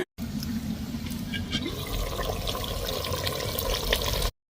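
Water pours steadily onto a stone grinding slab in a home kitchen while a Mangalore-style chicken dish is made, a continuous close splashing wash that runs unbroken for several seconds with no voices.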